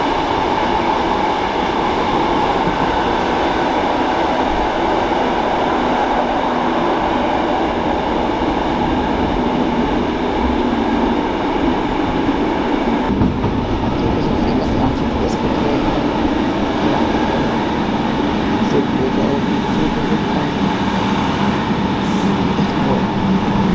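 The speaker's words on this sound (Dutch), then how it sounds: "Het is de eerste keer dat ik op de trein zit met zo'n stoeltje" Inside a moving passenger train in Belgium, a loud continuous rumble of wheels and carriage noise persists throughout, with a shift in the droning texture midway and occasional faint squeals.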